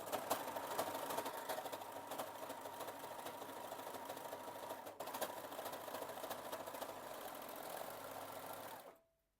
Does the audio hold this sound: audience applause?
no